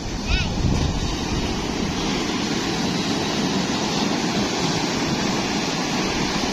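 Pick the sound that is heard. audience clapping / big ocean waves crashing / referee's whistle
big ocean waves crashing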